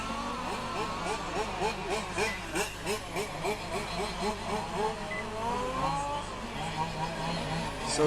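Large-scale RC race car engine at a European Championship track final, its buzzing two-stroke note rising and falling in repeated short revs as the car feathers the throttle through corners, mid-distance, with commentary talking over it throughout.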